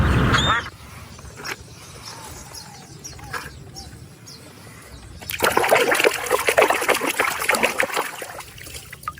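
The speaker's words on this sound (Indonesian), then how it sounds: "Wow, seekor bebek." A toy duck quacks amid watery trickling and splashing from toys being cleaned. The splashing grows louder and busier in the second half, with no voices.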